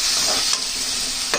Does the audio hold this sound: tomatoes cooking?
yes